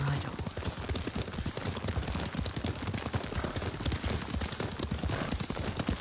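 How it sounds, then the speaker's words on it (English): Horse hooves from Ghost of Tsushima clop steadily at a riding pace, a continuous rhythmic patter of hoofbeats under busy in-game ambience and dialogue voices. "Lord Sakai taught me to ride a horse."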